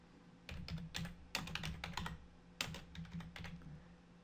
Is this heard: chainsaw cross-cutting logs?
no